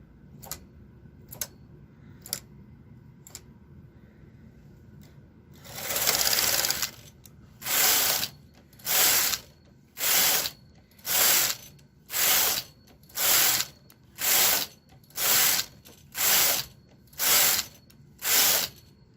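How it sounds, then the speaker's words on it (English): A domestic knitting machine with the ribber raised knits rows of ribbing for a bulky-yarn toddler yoke sweater, the carriage making a sustained whirring pass followed by a steady series of regular, evenly spaced rattling strokes, close and loud. "And now I'm going to bring up my ribber and knit 12 rows of ribbing."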